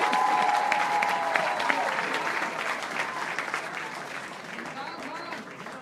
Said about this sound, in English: Round of applause, louder.